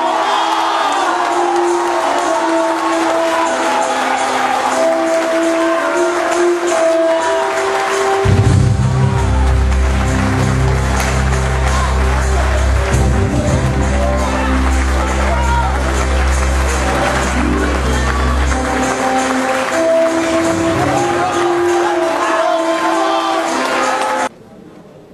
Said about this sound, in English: Round of applause and congratulations for the H.M.M. Harees